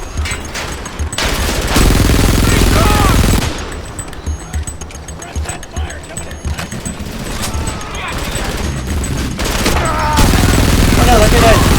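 Heavy gunfire from the Frontlines: Fuel of War battlefield around its anti-aircraft guns: sustained, loud automatic bursts and booms that swell and ebb, with dense rumbling explosions throughout.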